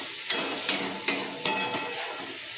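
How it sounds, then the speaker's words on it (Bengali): A spice paste of ground coriander, cumin, chili powder and ginger paste is sautéed in a pan for a vegetarian dish, with a soft sizzle broken by regular stirring scrapes about every half second. "আমি মশলাটাকে এবার কষাবো"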